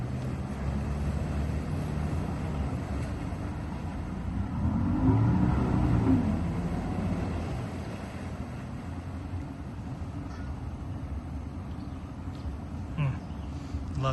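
A two-stroke outboard boat engine runs out on a lake, a moderately distant drone that swells as it passes by and then fades, under steady outdoor wind noise.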